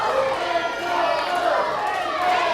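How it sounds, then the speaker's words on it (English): Excited fans at a live wrestling event cheer and shout in a dense, continuous roar, with voices rising out of the noise. "Listen to this crowd."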